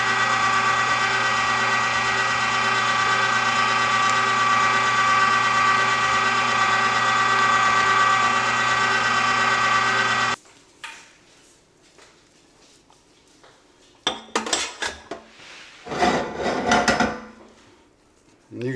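Lem Big Bite electric meat grinder grinding meat for chorizo, a loud steady motor hum for about ten seconds that cuts off abruptly, followed by a few clunks and handling noises.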